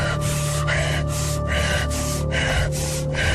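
A voice imitates strange, heavy breathing as part of a spooky night-time story, with loud rhythmic rasping breaths repeated about six times in steady succession, close and alone.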